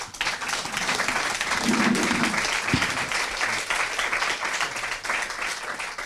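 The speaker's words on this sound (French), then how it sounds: "Je crois que vous pouvez les applaudir." An audience at a university FinTech conference on staking applauds the three speakers, a steady wash of clapping from a medium-sized room that carries on for several seconds.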